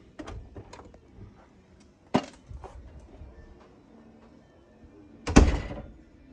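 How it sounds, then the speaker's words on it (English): Door fitted with self-closing hinges swinging shut, a few light knocks and clicks followed by one louder thud as it closes, nearby in a quiet room. "Door is closed."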